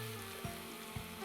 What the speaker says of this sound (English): That's what you want to hear, this nice sizzle.